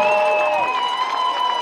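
A football stadium crowd at a high school game between the Rickards Raiders and the Choctawhatchee Indians cheers and roars in a sustained, loud wash of voices, with whistle-like tones over the noise.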